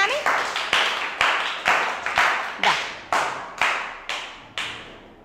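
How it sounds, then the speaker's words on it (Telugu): Clapping to welcome a player in a classroom language game, about a dozen sharp, evenly spaced hand claps in a steady rhythm, close and fairly loud. "చప్పట్లతో ఆహ్వానిద్దామా మేఘనాని?"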